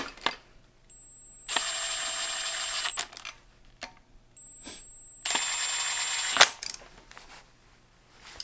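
An impact gun tightens camshaft bolts on an engine during a DIY cam install. There are two close, loud bursts of whirring, each with a softer lead-in, separated by a pause.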